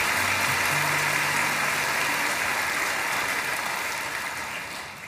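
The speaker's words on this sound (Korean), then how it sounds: "우리 귀한 자녀들 큰 축복의 박수를 합니다" A church congregation at a dawn prayer service claps in a sustained, dense burst of applause that fills the room, slowly fading toward the end, with a faint low hum underneath.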